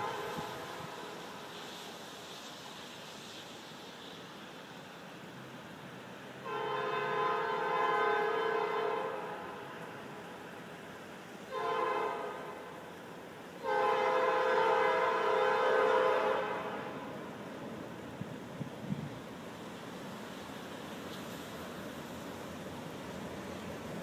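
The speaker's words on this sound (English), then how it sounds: "let's look at several videos with the SD40-2 leading the train." An EMD SD40-2 locomotive leads a train and sounds its air horn in three blasts: a long one, a short one, then another long one, all loud over a low rumbling background.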